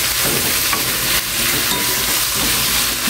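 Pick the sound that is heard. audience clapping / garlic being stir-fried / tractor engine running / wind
garlic being stir-fried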